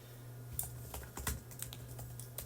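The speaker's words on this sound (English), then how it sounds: "pounding on his keyboard away" Rapid, uneven keystrokes on a computer keyboard, a steady run of sharp clicks with a few harder strikes, fairly close and moderately quiet over a low steady hum, with no talking.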